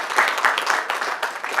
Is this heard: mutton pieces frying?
no